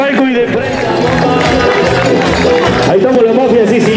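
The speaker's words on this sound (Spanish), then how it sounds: "Quiero escuchar el aplauso de acá, los que están en el palco y de frente." A large carnival crowd gives a loud, continuous roar of applause and cheering, dense and steady, with a voice in the mix.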